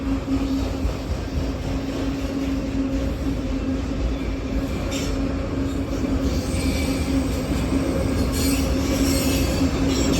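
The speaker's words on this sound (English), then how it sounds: "For the most part, these train sets just go back and forth" A CSX freight train rumbles steadily past with a constant drone, a high wheel squeal running throughout and faint rail clatter, no voices.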